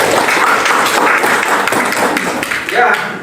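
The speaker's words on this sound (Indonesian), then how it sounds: "Tepuk tangan untuk kita semua" A classroom of students claps for everyone at the start of a morning lesson, producing dense, continuous clapping close by that blends with talking voices.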